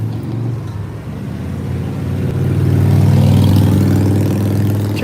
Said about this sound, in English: we're getting on a public bus and Sir Doyle's acting like this